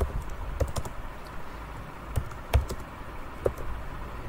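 Keys clatter on a computer keyboard during a freelancing writing exercise, with scattered quiet taps and a few sharper strokes over a steady low room hum, no voice present.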